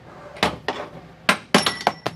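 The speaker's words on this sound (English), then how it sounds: "Take a small little hammer that can fit in there." A small hammer taps metal tailgate hinge pins on a truck in a series of sharp, bright knocks, about seven irregular strikes close to the microphone.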